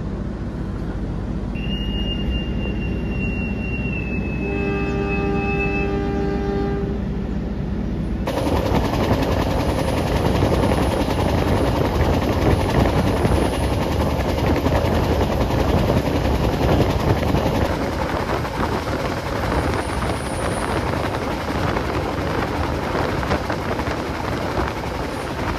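A Singasari economy-class train departs, heard from the rear carriage: a few brief tonal signals sound over a low rumble, then a loud, continuous rattling roar of wheels and carriage takes over and holds steady.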